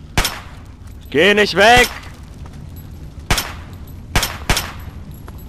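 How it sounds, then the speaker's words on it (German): Slow-firing guns shoot in Fallout 3, a few sharp, loud, widely spaced single shots with pauses between them, while a voice briefly speaks between the early shots. "Oh, ich hasse Waffen, die so langsam schießen, ey."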